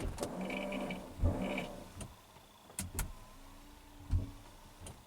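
Quiet whirring strokes of a car's electric power window motor, several short bursts with clicks in between, close by with no talk.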